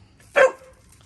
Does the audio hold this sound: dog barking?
yes